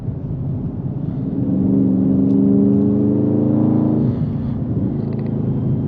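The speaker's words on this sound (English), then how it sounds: "Oh, that engine note sounds fantastic, to be honest." A 2021 Dodge Charger Scat Pack with a Hemi V8, heard from inside the cabin in manual mode: a steady low engine rumble swells into a rising rev, then eases back down, with no talking over it.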